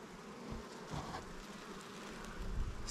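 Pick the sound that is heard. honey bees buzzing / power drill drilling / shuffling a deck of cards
honey bees buzzing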